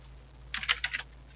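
Someone types briefly on a computer keyboard, a quick burst of about five or six clicky keystrokes close to the microphone over a low steady hum, with quiet before and after.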